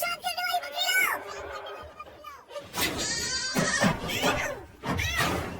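An animated goat bleats in quavering cries amid a lively cartoon scene, the bleats mixed with dubbed Hindi dialogue and a brief thud.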